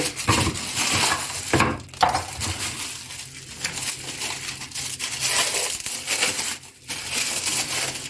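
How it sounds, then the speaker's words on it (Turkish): Frozen minced meat pulled from its plastic bag before thawing in a Xiaomi air fryer, giving a steady run of loud crinkling and crunching plastic with brief pauses, no voices. "kıymamızı poşetinden çıkartıyoruz"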